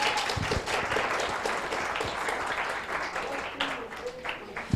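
A church congregation applauds during a Spanish-language sermon, a busy wash of clapping from many people with a few louder individual claps standing out, fairly faint overall.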